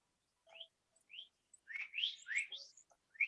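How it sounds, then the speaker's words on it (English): Several birds chirp and whistle in quick, bright bursts, a few short calls at first, then a denser run of overlapping tweets, clear and fairly close. "the birds chirping on the track"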